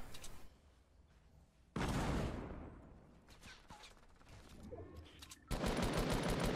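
Gunfire in the Fortnite video game, with loud bursts of shots at the start and end and quieter game noise between them.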